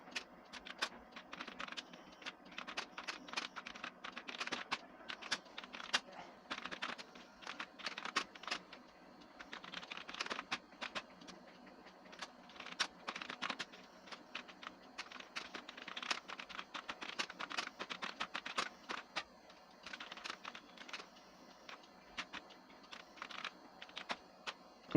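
C code typed on a computer keyboard in a steady, rapid patter of key clicks, close and moderately quiet, running continuously with brief pauses and no talking.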